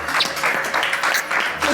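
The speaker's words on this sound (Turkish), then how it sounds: "Alkışlarla." Studio audience applause at the close of a cooking competition show, a dense continuous clapping with people talking over it.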